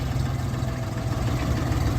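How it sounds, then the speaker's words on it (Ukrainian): A Jinma 244 LUX three-cylinder, four-wheel-drive tractor engine idles in a steady, close, low mechanical drone that holds even throughout, with no talk over it. "Тракторець трьохциліндровий, повнопривідний, трьохточка, два режими валу відбору потужності, з ходозменшувачем, 16 передач вперед, 4 назад."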